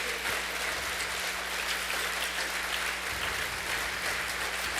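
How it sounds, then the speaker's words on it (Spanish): A church congregation at a Spanish-language conference applauds, a dense, even roar of clapping sustained for several seconds with a low steady hum beneath and no speech. "Dar un aplauso entonces al Rey de Reyes."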